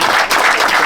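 Applause from the crowd at a Giribaz pigeon flying competition prize ceremony as a first-place trophy is handed over, a dense, steady wash of clapping filling the whole moment.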